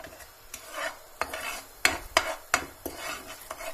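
A spoon scrapes and stirs sugar into burnt caramel in a pan, giving a series of sharp clinks and scrapes against the metal at irregular intervals, close and moderately loud, with no talking.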